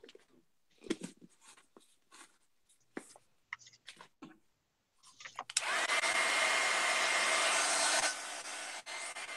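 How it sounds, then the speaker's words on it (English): A hair dryer switches on abruptly and blows steadily for several seconds, close and loud, drying gesso on an altered-book art project after a stretch of quiet scratching and handling sounds. "Drying out my gesso."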